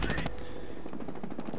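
Machine guns rattle in Company of Heroes: Opposing Fronts during a battle for Caen, rapid close bursts of fire that are fairly faint and continuous.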